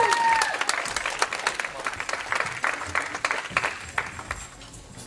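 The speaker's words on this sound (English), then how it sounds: "Let's give them a big round of applause" Concert audience applauding at a church worship group's one-year anniversary event, a steady wash of many hands clapping that swells early and fades gradually over five seconds, with scattered cheers mixed in.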